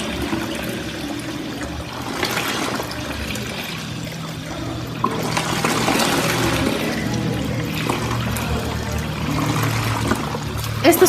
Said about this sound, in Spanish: Esto simula ser el afluente de donde pasa el agua hasta el tanque reservorio de la represa.